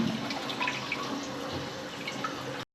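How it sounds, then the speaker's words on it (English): A toilet being flushed repeatedly during work on a blocked hospital drain, with continuous rushing, dripping water at moderate loudness that cuts off abruptly. "keep flushing the toilets just to keep everything moving"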